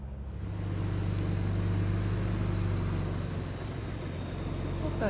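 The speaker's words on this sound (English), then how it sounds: "two huge articulated lorries. They nearly took the trees out" Two huge articulated lorries rumble through a park close by, a loud, sustained low engine drone that swells and holds for several seconds.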